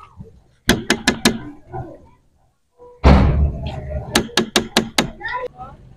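Sharp knocks on a house door come in a quick cluster, then a heavy thud, then another rapid series of loud raps, with faint room sound between them.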